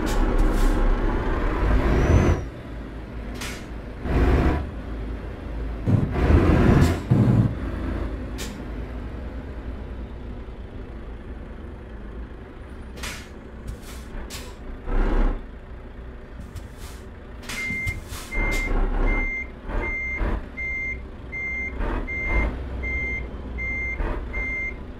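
A heavy truck in Euro Truck Simulator 2 rumbles with repeated sharp hisses of air brakes, then a steady series of reversing beeps sounds at regular intervals over the engine.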